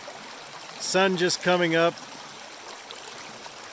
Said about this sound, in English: I'll just give you a shot of the creek here this morning.